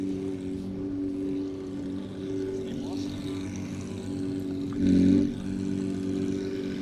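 A Porsche rally car idles at the start line of the Sainte-Baume Rallycircuit shakedown, a steady low engine drone with one brief louder blip midway, heard alone without talk.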